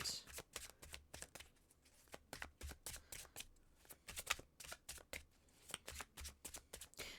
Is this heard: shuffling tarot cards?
yes